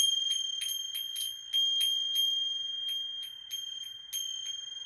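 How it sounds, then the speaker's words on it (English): Bright metallic chimes ring in a quick, uneven run of struck tones, clear and close with shimmering sustained overtones and no voices. "this is just the chimes, but I love the sound that these make as well"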